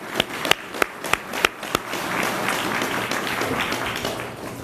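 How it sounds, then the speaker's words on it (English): Scattered hand claps from an outdoor audience at a groundbreaking ceremony, a few sharp separate claps at first, then spreading into a soft, steady wash of applause. "a round of applause for perseverance to this great day."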